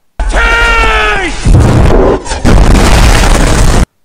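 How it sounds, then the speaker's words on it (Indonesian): Cannons firing during a film siege of Constantinople, heavy booming blasts and rumbling impacts preceded by a groaning, shouting voice, very loud and close, with the battle noise filling the scene. "Meriam-meriam pun kembali mulai ditembakkan"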